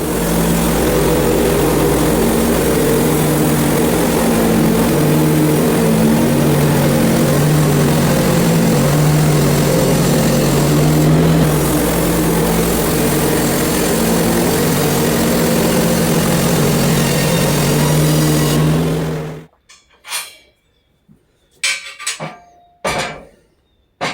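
A portable sawmill's engine runs loud and steady for about nineteen seconds while sawing a log outdoors, then cuts off abruptly, leaving a few scattered knocks and clatters.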